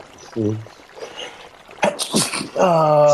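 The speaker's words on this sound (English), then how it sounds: "cringy to hear somebody do that where they sneeze and then he just snorts it back up" A short sneeze-like burst followed by a wet snorting sniff, with voices and a tonal vocal sound around it, close to the mic.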